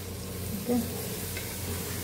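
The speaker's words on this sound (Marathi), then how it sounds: "छान मिक्स करूया आपण हा भाताला ह्यामध्ये" Rice being mixed into a spiced soybean pulao in a pan, a short steady sizzle with soft scraping stir sounds and one brief tonal clink, close and moderately loud, no voices.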